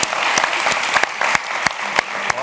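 Studio audience at a Turkish television panel show applauds a record result, dense steady clapping with sharp individual claps standing out, loud and continuous with no talk over it.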